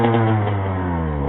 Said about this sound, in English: ride on my little pit bike track.